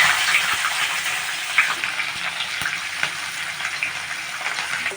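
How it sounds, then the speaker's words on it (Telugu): Sliced onions sizzle steadily in hot oil alongside cashews, a dense, continuous frying hiss with small crackles and pops, close up and unbroken throughout. "దీంట్లోకి మనం ముందుగా కట్ చేసి పెట్టుకున్న ఉల్లిపాయలను వేస్తున్నామండి"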